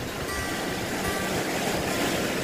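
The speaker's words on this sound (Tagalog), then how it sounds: "tampisaw ng alon" Ocean waves washing and splashing along a rocky shore, a steady loud broadband rush of surf with no voices.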